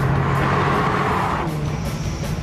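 A Ford Sierra RS Cosworth accelerates hard with a loud, steady, close engine roar that shifts in tone about halfway through, with no voices over it.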